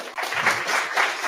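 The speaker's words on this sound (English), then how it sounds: "Big round of applause." Brief applause from the audience at an AI gathering at Google in Silicon Valley, a short burst of clapping with a few pulsing swells, just over a second long.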